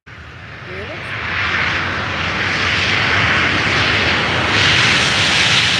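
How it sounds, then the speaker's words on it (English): An ASL Boeing 737-700 jet at Faro Airport gives a loud, steady engine roar that builds and holds close by throughout. "So we now have the ASL 737-700"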